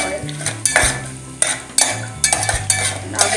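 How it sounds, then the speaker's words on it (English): Cashew nuts fry lightly in oil for poha pulao, a steady sizzle beneath repeated loud scrapes and clanks of a utensil stirring in the pan, with no voices. "I'll also add the cashew nuts at this stage and just lightly fry them."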